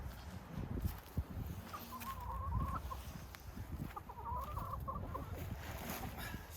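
Chickens cluck in their run during farm chores, a scattered, fairly faint run of clucks and short calls over low outdoor background noise, with no talking.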